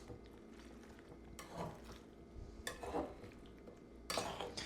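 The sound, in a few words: mixing chicken and fries with barbecue sauce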